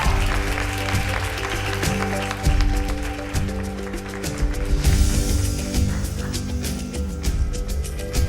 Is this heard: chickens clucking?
no